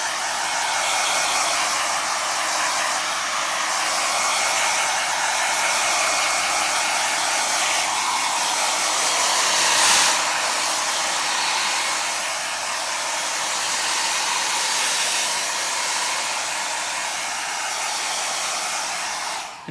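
A hair dryer blows steadily on a freshly repaired car leather seat from a Riley Pathfinder, a loud, continuous whooshing hiss held close for the whole stretch, no talking.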